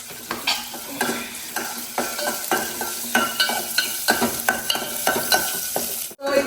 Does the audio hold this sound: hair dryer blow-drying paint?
no